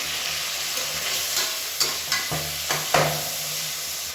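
Chopped onion and two medium tomatoes sauté in a pan for kadalai curry, a steady sizzle with a few sharp stirring scrapes near the end, close and even, with no talk.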